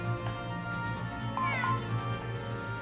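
A cat meows in the GrimGrimoire video game, with repeated drawn-out, tonal meows and a rising wavering call midway, playing over steady game music and low background hum.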